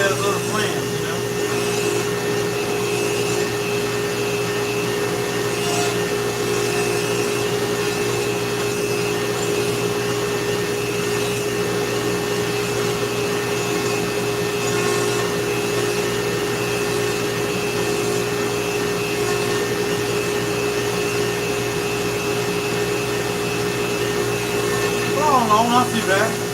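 A Dremel rotary tool carves a wooden bald eagle head, giving a loud, steady, unbroken high whine that runs throughout, with a voice faintly underneath.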